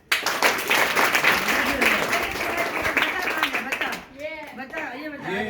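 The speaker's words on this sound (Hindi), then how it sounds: "तालियां बजाएं।" Audience clapping at a school prize-giving, a loud crowd of hands beating briskly for about four seconds before fading, with people talking over and after the applause.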